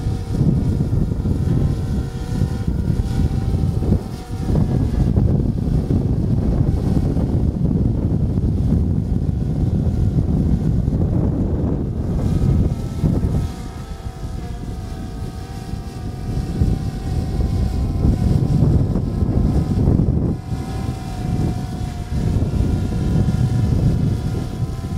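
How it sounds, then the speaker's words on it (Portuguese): Strong outdoor wind gusts buffeting a microphone beside a DJI Phantom 2 Vision+ drone after a motor replacement, a loud continuous low roar that surges and dips for the whole stretch, with no voices. "agora tem uma rajada um pouco mais forte de vento"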